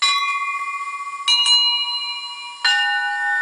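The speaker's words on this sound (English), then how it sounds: "before he knew it, a bell was ringing" A bell rings in three sharp, clear strikes with bright ringing overtones, each one sustaining and fading slightly before the next, in a cartoon story setting.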